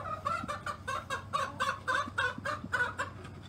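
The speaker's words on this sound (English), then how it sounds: "Over here at the entrance of the inside coop is a Sumatra." A Sumatra hen clucking at the entrance of an indoor chicken coop, a steady series of about a dozen close, evenly spaced clucks with no talking.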